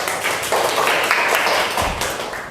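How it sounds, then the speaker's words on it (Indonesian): A classroom of students claps for their classmate Alfat, a brief, dense burst of many hands applauding close by and fairly loud throughout. "Tepuk tangan dulu untuk Alfat"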